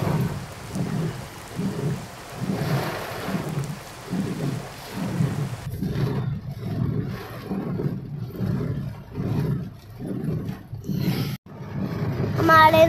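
Heavy rain pours steadily while deep thunder rumbles roll in repeated swells beneath it. A faint voice surfaces near the end.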